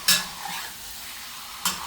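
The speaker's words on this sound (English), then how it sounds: "See, that is sizzling very nicely" Onions sizzle softly in a pan with ribs, a faint steady fry broken by two sharp scrapes of a spatula stirring, one at the start and one near the end, with no talking.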